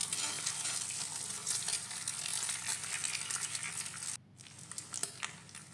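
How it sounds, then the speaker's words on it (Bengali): Egg bhurji fries in an iron wok with a steady, close crackling sizzle that suddenly drops to a softer hiss near the end, punctuated by a few light stirring scrapes. "লোহার কড়াইয়ে প্রথমেই আমি ডিমের ভুজিয়া করে"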